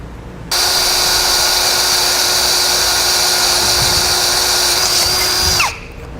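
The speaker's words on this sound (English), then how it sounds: "We need to drill a 1/4 inch hole, about 3/8 of an inch, to the right of this hole." Electric drill boring a 1/4 inch hole through metal on a 2015 Ford Fiesta for a base plate install, a steady high whine starting abruptly, holding for about five seconds, then winding down.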